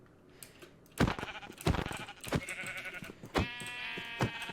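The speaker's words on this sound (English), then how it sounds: "I hear sheep." Sheep in the Minecraft video game bleat several times in short, separate calls, clear and fairly near, with a brief spoken word among them.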